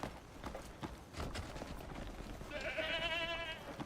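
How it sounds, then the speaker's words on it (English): A wild goat bleats in the open-world video game Crimson Desert, a faint wavering cry rising near the end over quiet game ambience with soft rhythmic hoof-like steps and thuds. "We steal a wild goat."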